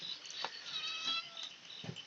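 A cat prowls near people eating a meal of local chicken, giving a few faint meows against a steady, hissy background noise.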